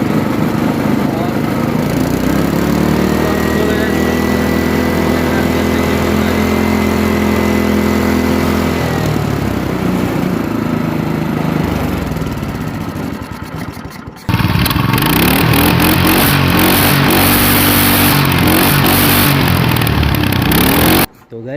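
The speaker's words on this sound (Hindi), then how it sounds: "जब ये इंजन आइडलिंग पे होता है तो ये स्लो नहीं हो रहा है।" A Honda GX160 water pump engine runs loud and close at a steady idle that fails to slow down. Its even drone shifts partway through and the engine keeps running with a rougher, brighter tone.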